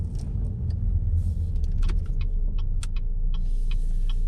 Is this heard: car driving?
yes